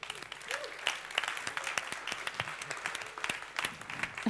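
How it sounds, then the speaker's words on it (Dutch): Studio audience applause welcoming two guests, art experts Jop Ubbens and Taco Dibbits, at a Dutch talk show on art value: steady mid-sized crowd clapping with scattered sharp claps, moderately loud and continuous throughout. "Dan nu een hartelijk applaus voor onze twee gasten"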